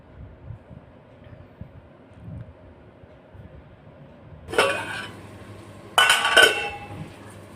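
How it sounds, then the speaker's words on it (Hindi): Garlic ghee tadka goes into a pot of dal in two short bursts of sizzling and clattering, close and fairly loud after a quiet stretch. "तो यहाँ पे तड़का हो गया है और अब मैं इसे"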